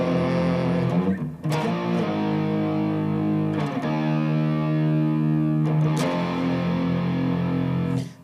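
Distorted electric guitar strumming simple power chords, thick and sustained with effects, a few chord changes marked by brief scratchy strums, loud and continuous with no talking.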